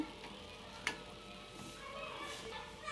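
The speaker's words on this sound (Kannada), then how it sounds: "ನೋಡಿ ಇನ್ನೊಂದು ಸಲಿನೂ ಹಾಗೆ ಫ್ರೈ ಮಾಡ್ಕೊಳ್ಳಿ" Karjikai, sweet stuffed dumplings, frying in hot oil give a faint, steady sizzle with a sharp crackle or pop near the start, continuing quietly throughout with no voices.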